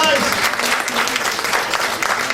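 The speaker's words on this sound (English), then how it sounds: "a round of applause from out there" Steady, full applause from a comedy club audience at a live Philadelphia show, with some crowd voices mixed into the clapping.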